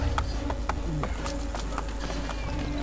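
Horse hooves clip-clop at a brisk, regular pace in the video game Assassin's Creed, close and clear over a steady low game background hum, with no voices.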